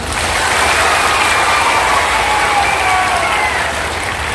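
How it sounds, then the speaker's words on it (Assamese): Loud, dense applause from a large crowd of students at a school gathering, sustained evenly for several seconds with no talking over it. "মই আমাৰ ছাত্ৰ ছাত্ৰীসকলক জোৰছে হাত চাপৰি দিবলৈ অনুৰোধ কৰিছোঁ"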